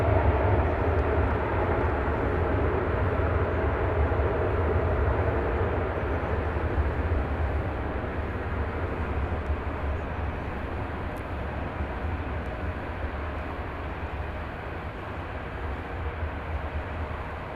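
A jet airliner, an American Airlines flight bound for Madrid, takes off from DFW Airport at night, a steady broad roar of engines heard from a distance for a long, unbroken stretch without talk.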